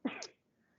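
A single short sneeze bursts out close by, sharp and loud at the start, then fades quickly into quiet room tone.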